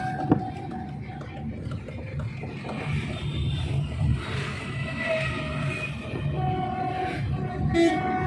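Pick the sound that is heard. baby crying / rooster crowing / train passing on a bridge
train passing on a bridge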